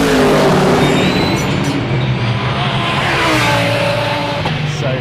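Sports cars in sports mode pass close by at speed, their engines roaring loudly and steadily with whooshes of passing traffic and changing pitch as they go.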